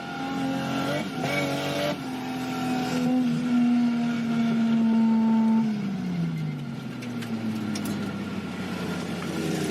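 Rally car engine at close range holding a steady high drone, then the pitch drops away as the fuel cut kicks in, with gravelly road noise underneath and no talking.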